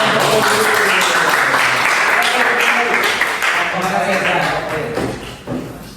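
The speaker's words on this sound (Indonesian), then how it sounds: "Tepuk tangan untuk" Class of students applauding during an Al-Quran and Hadith lesson: a sustained wash of brisk, overlapping clapping that fills the room for several seconds, then thins out near the end, with a voice speaking over it.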